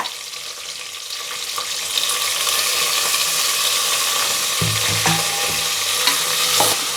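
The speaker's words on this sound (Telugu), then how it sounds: "బాగా ఎర్రగా ఫ్రై చేసుకోవాలా" Onions, green chillies and coriander fry hard in a pan for blue biryani, with a loud continuous sizzle and scattered scraping stir clicks of a spatula throughout, no talk.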